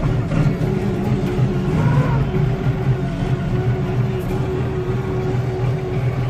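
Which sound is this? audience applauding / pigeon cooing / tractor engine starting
tractor engine starting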